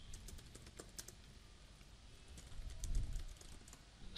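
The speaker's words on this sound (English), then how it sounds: "So I'll just type something over here." Typing on a computer keyboard while entering text into a Blogger website editor, a steady run of light, quick key clicks close to the microphone with no talking.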